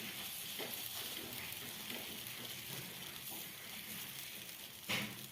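Bajra bhakri, its top brushed with water, sizzles softly on a hot griddle: a faint, steady hiss with one brief louder crackle near the end.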